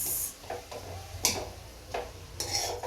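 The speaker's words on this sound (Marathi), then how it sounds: "किस किस सगळं चांगलं परतून घेते तुपामध्ये" Grated carrot stirred and sautéed in ghee for carrot halwa, with a few scraping spatula strokes and soft clinks against the pan over a low sizzle, close and fairly quiet.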